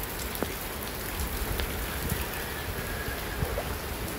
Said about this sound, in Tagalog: Sana hindi magtuloy-tuloy pa ang ulan.